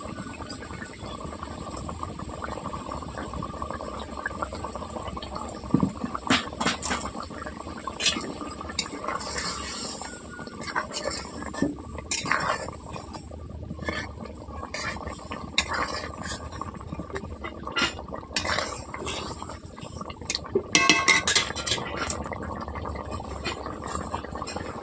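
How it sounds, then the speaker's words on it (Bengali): Rui fish kalia curry simmers in a pan, with a steady bubbling boil broken by scattered clinks and scrapes from stirring, close and moderately loud throughout. "ফুট চলে এসছে, তার জন্য আমি মাছগুলোকে দিয়ে দিচ্ছি।"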